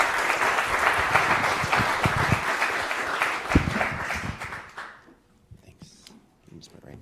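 Symposium audience applauding a speaker, a dense wash of clapping from a sizable crowd that carries for about five seconds before thinning out and fading to near quiet.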